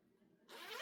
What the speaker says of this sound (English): recessed zipper, you open it up, and then you have your pocket on the inside.